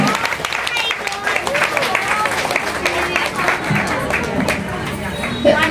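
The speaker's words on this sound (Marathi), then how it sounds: "जोरदार टाळ्याने स्वागत करा महाराजांचं" Applause from an event audience welcoming a Maharaj at a public demonstration, a steady crowd-wide clapping that fills the space for several seconds with murmuring voices mixed in.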